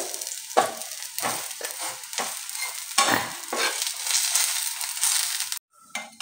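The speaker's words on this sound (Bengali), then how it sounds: "ঠিক একইভাবে আমি বাকি ব্যাটারগুলো ভেজে নেব" Batter fries in hot oil in a pan for a healthy breakfast dish, a steady close sizzle broken by repeated scraping stirs of a spoon, ending in a brief dip near the close.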